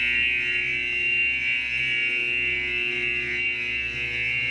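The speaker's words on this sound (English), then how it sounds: "the sound you hear is the fire alarm" A fire alarm blares continuously inside a flooded school, River Heights School, during the Red River flood: a loud, steady electronic buzzing tone with a low droning hum beneath, unbroken throughout.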